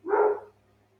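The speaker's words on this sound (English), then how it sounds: "noise coming from my house to your house as my dogs say hello" A few dogs bark and yip from inside a nearby house, one short burst of barking that fades quickly into quiet room tone.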